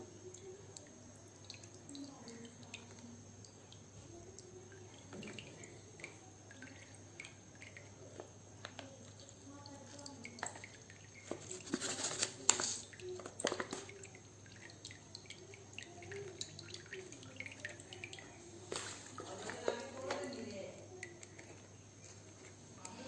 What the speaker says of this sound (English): Now this filtration is going on.